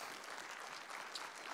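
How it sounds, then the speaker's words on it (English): A short burst of steady audience applause at a personal development talk, a dense wash of clapping that holds an even level throughout with no voices over it. "This woman deserves the biggest round of applause I've ever felt."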